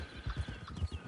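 Herd of wild horses galloping in Red Dead Online, soft rumbling hoof thuds in quick uneven succession, fairly distant and low, with no voices.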